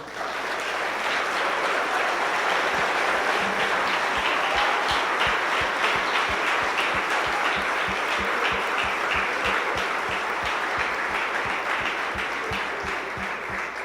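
A church congregation applauds steadily during a worship service, a dense, even wash of clapping from many hands that holds at full strength without a break.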